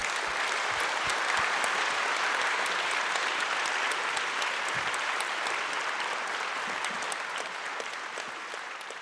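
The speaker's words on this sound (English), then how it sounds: "I think you deserve a big applause" Audience applause after a talk, a dense even wash of many hands clapping at moderate distance, steady throughout and easing off slightly at the end.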